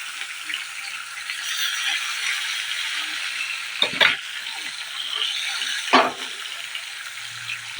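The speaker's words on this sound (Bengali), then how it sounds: "তেলের ভিতরে আমি একে একে এবার মাছগুলো দিয়ে দেব" Chital fish pieces fry in hot mustard oil with a steady, close sizzle, broken by two sharp bursts of crackle as more pieces hit the pan.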